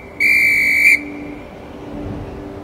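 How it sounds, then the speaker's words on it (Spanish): A single sustained, bright whistle in an animated fairy tale about raindrops, blown as a call to gather them: one steady, loud tone lasting under a second over soft background ambience. "Arriba en las nubes, Lluviosa silbaba para que todos se reuniesen."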